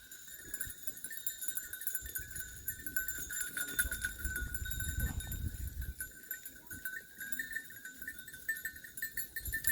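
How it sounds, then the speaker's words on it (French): Clanking bells from a herd of goats grazing close by in Portugal, with irregular metallic tinkles throughout and faint voices murmuring underneath. "Elles sont pas magnifiques ces chèvres?"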